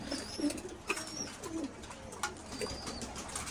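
Pigeons in a breeding loft give soft, low, repeated coos, several birds calling in short overlapping phrases at close range over quiet background, with a few faint higher chirps.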